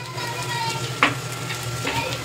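Onion, green chilli, turmeric and salt are stirred together for a potato filling, sizzling steadily in a pan with a spoon scraping against the metal twice.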